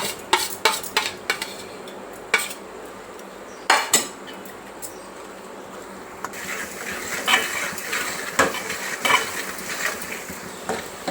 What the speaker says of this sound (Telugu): మసాలా మంచిగా ఒక 2 నిమిషాల నూనెలో వేగనిద్దాం